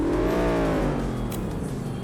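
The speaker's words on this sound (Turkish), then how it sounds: "Buradan araba gidiyor" A car sweeps past with a rising then falling engine whine and whir, loud up close and fading as it moves away.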